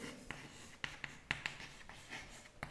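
Pen scratching across paper while working a straight-lines maths problem, a series of quiet, close strokes and taps in an irregular rhythm with no voice.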